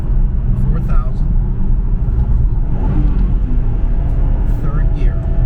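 A 2004 Subaru Impreza WRX STi accelerating in third gear, with a deep, steady engine rumble and road noise heard from inside the car while someone talks over it.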